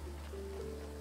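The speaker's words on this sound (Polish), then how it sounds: "Gdyby tylko deszcz nie padał." Steady rain falls in the game Graveyard Keeper, a continuous soft wash of patter over a low droning background, with no pauses.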